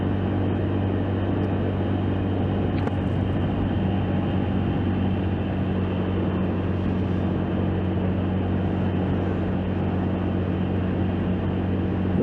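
Motorcycle cruising on a freeway, picked up by a mic under the seat: a steady, dense engine and road drone with a low hum that stays constant throughout, with no breaks.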